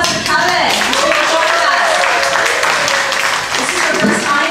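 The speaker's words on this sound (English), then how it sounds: "everybody give a big round of applause for Kevin" Convention audience giving a round of applause for a guest at a comic con podcast panel, a steady, dense burst of many hands clapping, close and loud, with cheering voices mixed in.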